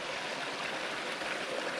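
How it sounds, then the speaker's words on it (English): Small waterfalls cascade down a steep hillside stream, giving a steady, close, broadband rush of water with no talk over it. "It's quite steep, there's lots of little waterfalls"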